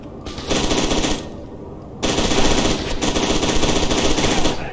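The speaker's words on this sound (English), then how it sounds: "Did they update the gun audio for this DLC? May have. I swear it sounds different." Machine gun fire from the video game FEAR 2: Project Origin, two loud sustained bursts of rapid shots split by a brief pause, with no talk over them.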